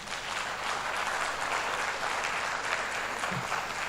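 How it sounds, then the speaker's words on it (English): Conference audience at a Nigerian architects' general assembly in Abuja applauding, a continuous even wash of many hands clapping at steady volume for several seconds, with no speech over it. "And I want you to clap for NIA."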